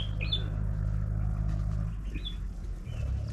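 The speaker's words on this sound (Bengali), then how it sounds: "হাঁটতে হাঁটতে কিন্তু পাখির আওয়াজ পাচ্ছি" Birds chirp along a hill trekking path at Biharinath, a few short high calls sounding at a moderate distance over a low, steady rumble.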